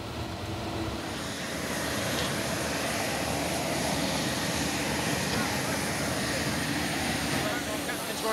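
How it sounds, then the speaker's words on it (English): Airliner engines roaring steadily at an airport as the aircraft arrives, a continuous loud broadband drone with a faint whine, with someone talking over it. "Kimber's lift has arrived, piloted by Captain Clack."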